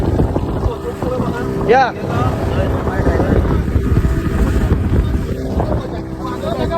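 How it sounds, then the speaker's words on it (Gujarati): A boat drifting at sea off Goa near Palolem, a steady engine hum and water wash mixed with wind buffeting on the microphone, with a brief voice and people talking. "ભાઈ તો બોટમાં ડ્રિફ્ટ મારે છે।"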